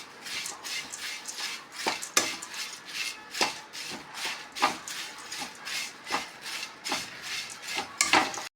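Flattened rice (aval) being stirred in a hot pan for a sweet mixture, giving repeated dry scraping and rustling strokes at a steady rhythm, close and moderately loud with no talking.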